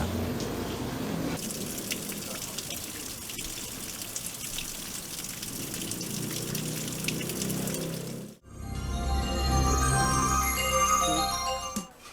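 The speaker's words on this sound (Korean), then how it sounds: "비 내리는 소리가 너무 좋아서 카메라를 들고 일어납니다." Heavy rain pours steadily outside a pork-trotters restaurant, a dense close hiss of drops and splatter that runs unbroken, then shifts after a brief dip into a louder gushing wash with sharper drips.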